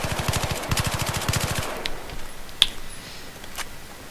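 Rapid bursts of bullpup rifle hipfire in Battlefield 3, about a dozen quick evenly spaced shots in the first second and a half, followed by a few sparse, fainter shots and impacts.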